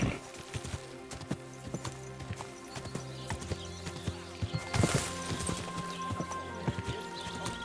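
Horse hooves clip-clop in a steady rhythm in Kingdom Come: Deliverance II, over a busy game soundtrack with music, with a brief whinny partway through.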